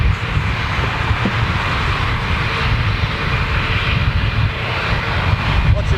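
Boeing 747 aircraft engines roaring steadily on the jumbo jet's final flight, a loud continuous drone with a deep rumbling low end that holds without pause throughout.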